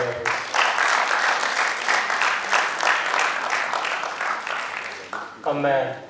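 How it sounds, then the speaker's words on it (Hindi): A stage event audience claps steadily and fairly loudly for several seconds, the applause tapering off before a voice cuts in at the very end. "श्री वीरा शंकर जी का एक बार जोरदार तालियां प्लीज।"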